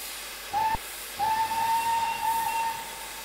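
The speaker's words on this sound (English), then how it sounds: "Only the one whistle." A 4MT steam locomotive on the Weardale and Teesdale line sounds its steam whistle: a short blast, then a longer sustained one over a soft hiss.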